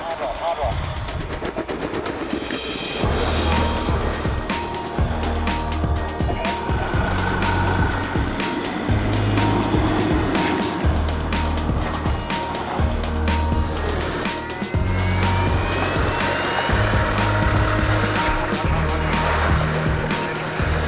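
Off-road vehicle crawling slowly forward over a rough track, its engine rumbling steadily and close with bursts of revving, while people talk over it.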